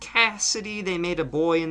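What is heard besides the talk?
None of the usual background noises is heard.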